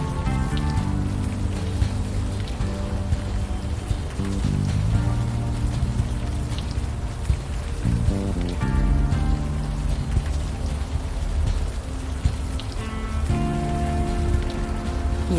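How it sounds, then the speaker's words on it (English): Steady rain pattering on surfaces in the Unavowed game, a continuous hiss with droplets, with tonal music playing alongside. "Still raining."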